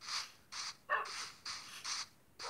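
Dogs bark in the Minecraft video game, a run of short repeated yips and barks in quick bursts with brief gaps, fairly close and moderately loud, with no talk over them.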